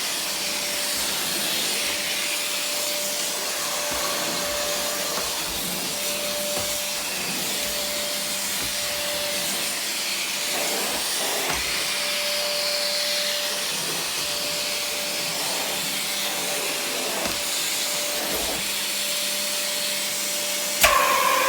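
Canister vacuum cleaner fitted with 32mm tools and a straight suction head running steadily throughout, a loud continuous whooshing roar with a faint steady tone, ending with a brief bump.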